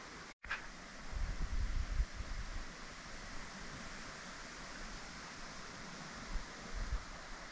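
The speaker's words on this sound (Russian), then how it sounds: "Сейчас ветер поднялся, дождик небольшой." Steady broadband wind rush outdoors by a reservoir, with light rain, a continuous hollow roar with low gusty rumbles, no voices, after a brief knock at the start.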